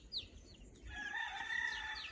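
Chickens outdoors around a homestead in the Philippines, with several birds calling: short clucks and crowing-like cries rising over a steady background hum, fairly close and moderately loud.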